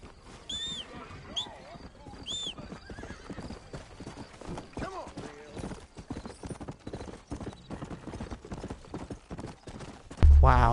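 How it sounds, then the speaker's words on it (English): A horse gallops in Red Dead Redemption, rapid rhythmic hoofbeats running steadily throughout with a couple of whinnies near the start, someone talking over the action, and a loud thump at the very end. "Wow, the horses be zooming on this game."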